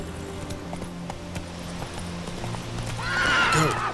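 Roach, a horse in a video game, trots with a steady, close clip-clop of hooves, and a whinny rises near the end.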